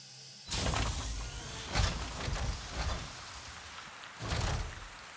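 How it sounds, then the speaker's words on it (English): Rain falls in the video game Avatar Frontiers of Pandora as a broad, rushing wash that swells in several loud gusts over a softer steady patter. There is no talking. "It's just raining now."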